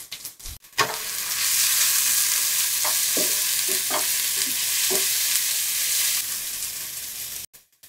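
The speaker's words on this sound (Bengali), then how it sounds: "মশলাটা থেকে তেল ছেড়ে না দেওয়া পর্যন্ত এগুলোকে আমি একটু ভুনে নিব।" Spice masala frying in oil in a pan for beef curry, a steady close sizzle with a few soft spoon-stirring scrapes partway through, no talking.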